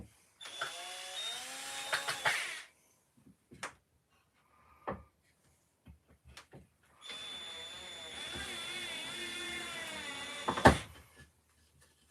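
Electric drill driving screws into wood, two whirring bursts with rising and falling pitch separated by quiet handling clicks and knocks, fairly close and clear with no talk over it.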